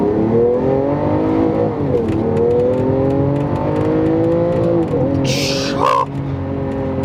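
Sports car engine revving with its exhaust valves open, a loud, sustained rising and falling drone that ends in a brief sharp burst, heard from inside the car with no talking.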